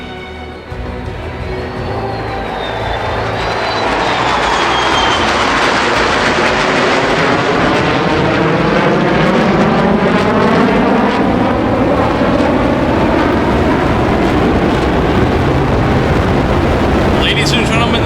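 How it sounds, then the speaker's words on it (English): A simulated F-14 Super Tomcat and a Tigercat jet approach show center in a Roblox airshow game, a loud, steadily building roar with sweeping whine that stays sustained throughout. "the Super Tomcat and the Tigercat approach Show Center"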